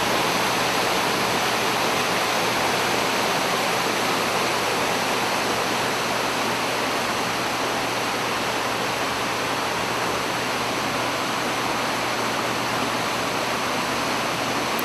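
A waterfall near Pokhara roars in a steady, dense wash of falling water that stays loud and unchanging throughout, with no voices.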